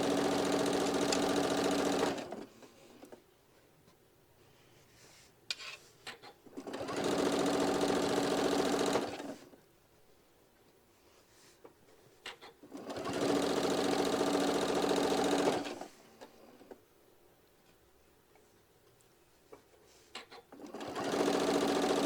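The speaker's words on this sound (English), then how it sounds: "Getting that little basting stitch done on the edge." Sewing machine running a basting stitch along a fabric edge, stitching in three long steady bursts of loud whirring separated by quiet pauses while the fabric is readjusted.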